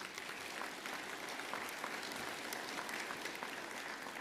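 Audience at a community meeting applauds in a dense, even burst of clapping that holds steady throughout, with no talking over it.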